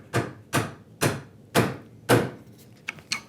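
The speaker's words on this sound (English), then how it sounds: "Here's my narrower chisel. I'm going to go right onto my knife wall now." A narrow chisel chops down into wood at a knife wall while a simple dovetailed box is cut, giving five evenly spaced, sharp, close knocks followed by a few lighter taps.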